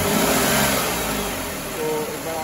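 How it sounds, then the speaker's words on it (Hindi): A 2020 Renault Kwid petrol car engine runs steadily, heard close up as a continuous mid-pitched hum with a faint rise and fall in the middle, no talk over it. "सो ये आप एक बार इंजन नॉइज सुन लो।"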